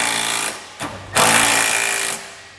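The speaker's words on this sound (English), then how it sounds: "I'm going to tighten down these three nuts first that are actually holding the center part of our hitch to the side plates." A power impact tool spins and tightens nuts on a Curt trailer hitch receiver with an 11/16 socket on a 2018 Lincoln MKC, in two loud close bursts of whirring and rattling with a brief pause between.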